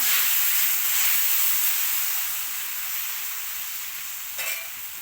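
Dosa batter hits a hot oiled pan with a loud, close, steady hissing sizzle that eases slightly over a few seconds, with a brief scrape or tap near the end; no voices.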